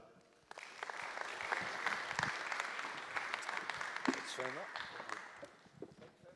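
An audience applauds at a talk as a speaker is welcomed to the stage, sustained clapping from a crowd with a few voices and murmurs mixed in, fading toward the end.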